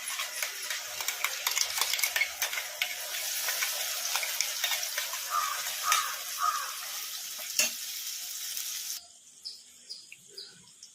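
Ground cashew masala hits hot tempering in a pan and sizzles loudly, with crackles and spoon scrapes while stirred, then the frying cuts out abruptly to a quieter background with a few clinks.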